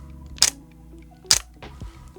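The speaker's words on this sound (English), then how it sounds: "the shutter on this camera" A Nikon Zf camera fires its shutter, two crisp, close mechanical clicks about a second apart and a softer third click after, in a quiet room.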